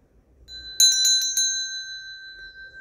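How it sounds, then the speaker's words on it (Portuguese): A bright bell rings four quick times, leaving a clear, sustained ringing tone that slowly fades. "Acionar o sininho das notificações"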